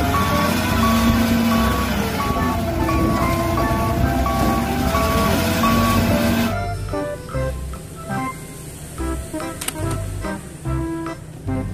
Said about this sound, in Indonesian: Wow, lihat kalau ini mobil truk pasir.